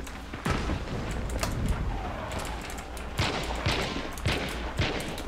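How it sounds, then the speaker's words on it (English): Gunshots in Hunt: Showdown, a handful of sharp cracks and booms spaced irregularly over steady background noise, fairly loud and close. "I'm shooting a barrel."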